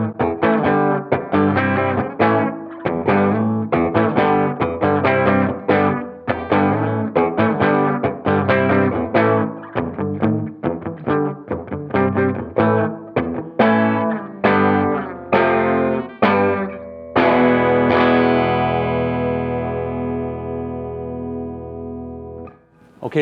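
Gibson Firebird electric guitar through the darker bass channel of a Supro 88-T amp, played as steady chopped chords with a slightly gritty tone, ending on a long sustained ringing chord that fades out, close with no talking.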